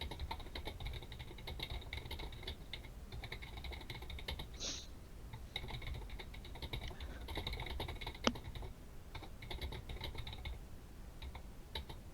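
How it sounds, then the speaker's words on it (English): Quiet, continuous computer keyboard typing with rapid irregular key clicks and brief pauses, faint and steady with no talking over it. "I know this is a lot of typing back and forth all the time nowadays"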